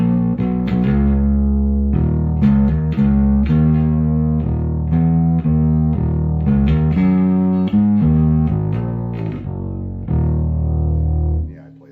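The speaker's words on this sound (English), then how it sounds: "This is my amps distortion. I set this one a little bit warmer," A Precision bass played through an amp's distortion set warm and tube-like, with a run of bold, sustained notes and a riff that ends abruptly.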